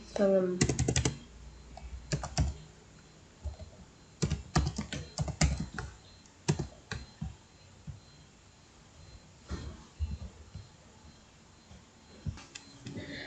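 Quick bursts of keystrokes on a computer keyboard while a return table is set up in a database, with clusters of close, crisp clicks separated by short pauses.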